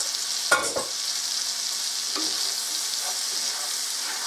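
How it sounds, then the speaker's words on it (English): Chicken chunks fry in a pan alongside garlic and onion, giving a steady close sizzle throughout with a couple of brief stirring knocks near the start. "I got it cut up in nice chunks, so it won't take too long for it to fry up and cook"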